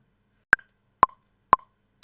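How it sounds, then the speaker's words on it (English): Metronome click track ticking in a recording session, four sharp evenly spaced clicks about half a second apart, the first pitched slightly higher as an accent, clear and isolated with no talk. "Down here, you can hear the clicks going off."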